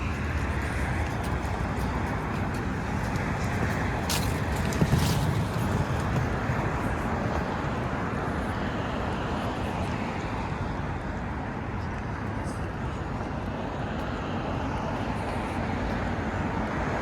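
Number 960 bus passing in Steeles Avenue traffic in Toronto, a steady roar of engine and road noise that rises slightly in the middle and then holds, heard continuously with no speech.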